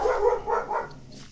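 A dog barks a few times in quick succession after being let out, the barks close and fairly loud, with a faint whine trailing at the end.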